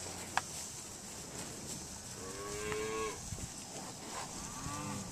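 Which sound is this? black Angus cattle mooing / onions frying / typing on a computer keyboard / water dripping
black Angus cattle mooing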